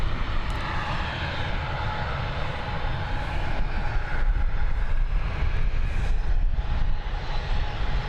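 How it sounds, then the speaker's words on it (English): An airliner departs Dublin Airport bound for Ibiza, its engines giving a loud, continuous, broadband roar that holds steady throughout and swells slightly in the second half, with no voices over it. "Okay, next departure heading over to Ibiza."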